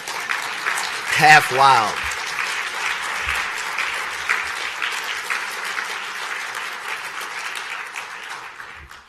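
An audience applauds at a literary awards ceremony, a steady wash of clapping that swells briefly and holds for several seconds while a speaker talks over it.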